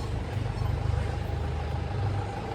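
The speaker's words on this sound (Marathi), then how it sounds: "कापूस भरण्याचे टेम्पो इथे" A tempo truck that has come to load cotton rumbles in a low, steady idle nearby, with a pulsing throb and no clear talking.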